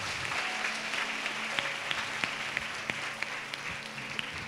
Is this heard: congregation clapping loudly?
yes